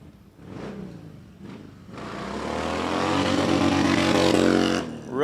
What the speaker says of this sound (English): Rusty Carvalho with a big hard launch on that dyno right there.